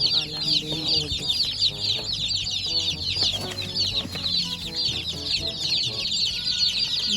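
Seventy broiler chicks in a rural coop keep up a dense, continuous chorus of high, overlapping peeps, fairly close, with faint low sounds underneath.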